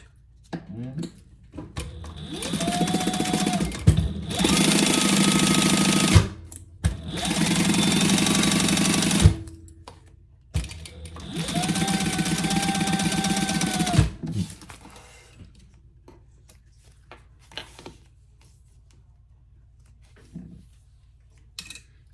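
A sewing machine bastes fabric at a 1/8-inch seam for an eyeglass case pouch, running in three loud, steady whirring bursts separated by pauses and small handling clicks, with quiet near-silence at the end.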